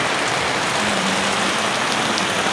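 Steady rain pouring down in Angeles City, Pampanga during the rainy season, a dense even hiss of drops on surfaces, close and continuous with no voices.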